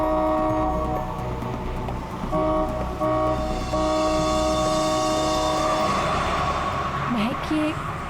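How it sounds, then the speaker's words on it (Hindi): A vehicle horn on an open road blares in long, loud, steady blasts, sounding again and again over traffic rumble, with voices talking through it. "हॉर्न पे हॉर्न मार रहा है।"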